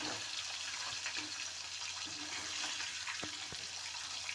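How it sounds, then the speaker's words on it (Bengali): Fish frying in oil in a wok, giving a soft, continuous sizzle and crackle with a few small pops, heard faintly and alone. "মাছ ভাজা হচ্ছে।"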